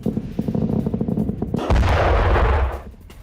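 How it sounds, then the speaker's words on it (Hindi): Explosions near a US air base in Bahrain: a rapid series of sharp cracks, then a heavy, rumbling boom that swells and fades, loud and fairly close. "और बहरीन में कम से कम 4 धमाके सुने गए।"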